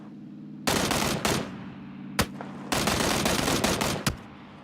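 Bursts of automatic gunfire in PUBG, a long loud volley followed by a sharp single crack and a second extended burst, ending with another isolated shot, all close and without talk.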